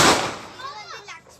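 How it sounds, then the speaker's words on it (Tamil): A Diwali firecracker bursts with a sharp, loud crack at the start, then its noise fades out as children's voices talk over the tail. "நாங்கள் இப்போ பட்டாசு போட்டுட்ருக்குறோம்"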